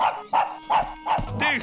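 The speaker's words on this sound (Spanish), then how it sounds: "¡Deja de ladrarme, muchacho!" A cartoon dog barks four times in a steady rhythm, each bark loud and close, and a short whine-like yelp follows at the end.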